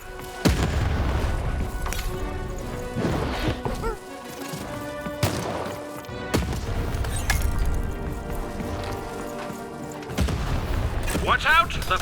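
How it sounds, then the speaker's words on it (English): Cannon fire in the video game Lost in Random lands as a series of heavy, irregular booms and crashes, spread through the clip over game ambience and voices. "button to fire the cannon."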